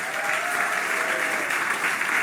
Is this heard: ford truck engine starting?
no